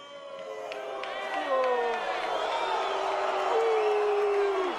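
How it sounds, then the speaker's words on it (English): An arena crowd at a boxing press conference cheers and whoops continuously, a dense wash of many voices with rising shouts and cries that stays loud and steady throughout. "The crowd goes wild and cheers echo through the arena"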